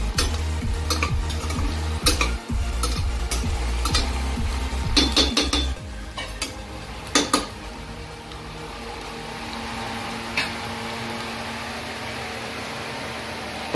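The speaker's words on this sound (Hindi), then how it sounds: "तो ये जब तक पूरी तरीके से फ्राई हो जाए तब तक हमको वेट करना है।" Ghati-style chicken sukka sizzling loudly in a pan while a utensil scrapes and stirs it in quick repeated strokes, the stirring easing off partway as the steady frying hiss carries on alone.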